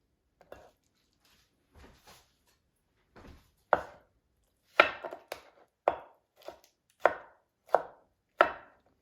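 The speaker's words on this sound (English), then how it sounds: "You need to cut it a little smaller pieces." Food chopped into smaller pieces with a knife for a tomato chicken rice omelette: about a dozen sharp, close knife strikes, sparse and hesitant at first, then a steady regular rhythm of loud chops, with no talking.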